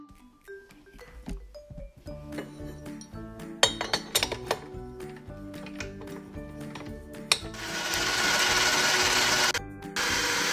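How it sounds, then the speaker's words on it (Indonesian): Cake batter for bolu bruder is beaten in a bowl: quick, irregular clinks of the utensil against the bowl, then a louder, steady whirring rush near the end. "Sekarang saya kocok dulu ini."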